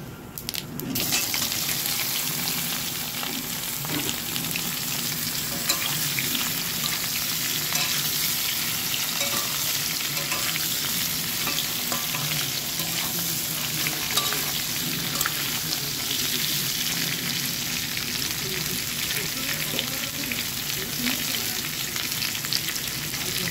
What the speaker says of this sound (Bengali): তেলের মধ্যে শুকনো লঙ্কা আর জিরে ফোড়ন দিয়ে দিচ্ছি আর সিদ্ধ করা ফুলকপিটা দিয়ে দিচ্ছি